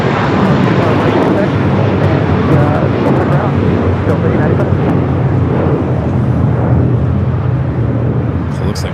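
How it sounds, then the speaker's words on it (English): A Japan Airlines Airbus A350-1000 taxis at LAX toward runway 25 right. Its jet engines give a loud, continuous rumbling whine that stays steady throughout and eases slightly at the end. "Japan Airlines A350 1000, A350 1000 starting its taxi down"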